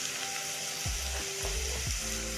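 Carrot and potato pieces fry with onions in a pan, a steady close sizzle broken by a few low thumps as pieces are tipped in and moved about, no voices.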